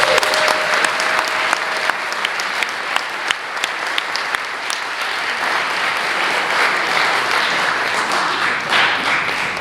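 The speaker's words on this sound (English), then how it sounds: "Let's give it a round of applause." A crowd at a hiking trail gathering in Kentucky claps steadily for nearly ten seconds, a close, even patter of many hands with a few sharper individual claps standing out.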